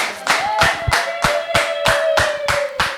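A church congregation claps in a steady, rhythmic beat, about eight sharp, close claps in three seconds, over a sustained musical tone.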